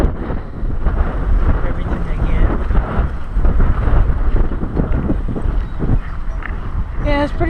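Wind from a sandstorm buffets the microphone in a constant low rushing roar throughout, with a voice speaking under it.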